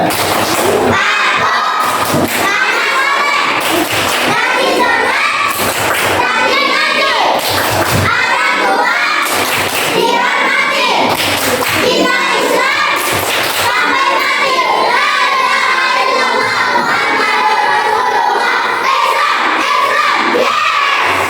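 A classroom of fourth-grade children claps in a rhythmic pattern of loud beats, with shouting and cheering voices mixed in throughout.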